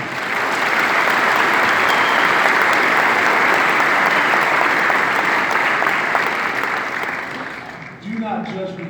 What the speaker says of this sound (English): So will you give a nice warm welcome to Matt Hessel?